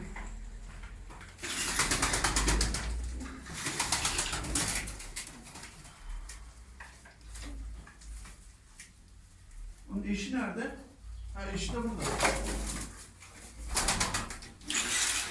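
Tumbler pigeons coo softly in short bursts nearby, while people talk over them throughout.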